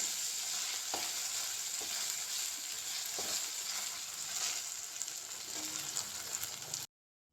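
Ginger sizzles steadily in oil in a frying pan while being sautéed, with a constant frying hiss and occasional scrapes and taps of a stirring spoon, then the sound cuts off abruptly.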